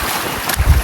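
A brief blast of wind roars across the microphone aboard a boat on open water, loud and rumbling, with a heavier low gust swelling near the end.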